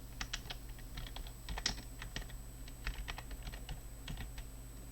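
Steady typing on a computer keyboard while registering a student account, a quiet run of irregular key taps and clicks going on throughout with no voices.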